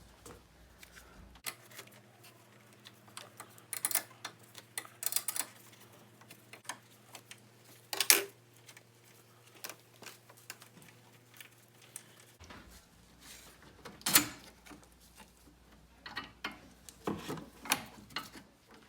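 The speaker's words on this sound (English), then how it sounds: "I'm going to be taking out these 2 bolts for the power steering reservoir" A hand ratchet loosens 10mm bolts on the power steering reservoir of a BMW 335i, with quiet clicking bursts and scattered taps and clinks from the engine bay, heard close up with no talk.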